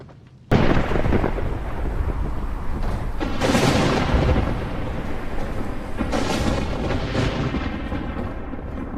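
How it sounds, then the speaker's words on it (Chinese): Heavy thunder in a rainstorm breaks in abruptly after a brief quiet start, then keeps rumbling loudly and continuously with rolling swells and a rain-like hiss throughout. "总是打雷下雨，这样的鬼天气"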